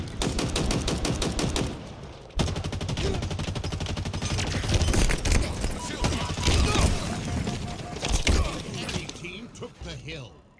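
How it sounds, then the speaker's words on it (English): Rapid machine gun fire chatters in a Halo Infinite multiplayer hill-control match, long fast bursts with brief pauses, loud and up close, with mechanical clanks mixed in. "Machine guns suit you, Spartan."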